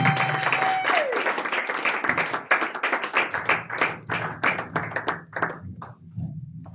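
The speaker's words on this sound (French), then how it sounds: "Let's clap again." A church congregation claps and applauds, dense and sustained at first, then thinning into slower, more separate hand claps that gradually taper off.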